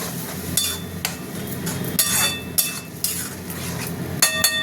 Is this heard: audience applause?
no